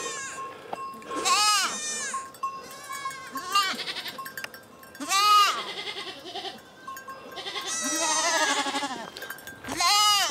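Several goats bleat loudly and repeatedly, overlapping calls rising and falling close by, with a faint bell clinking in the background.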